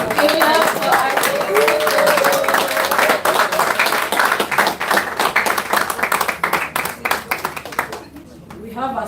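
An audience at a democracy forum in Abuja applauds, dense clapping from many hands that thins out toward the end, with a voice speaking over it at the start.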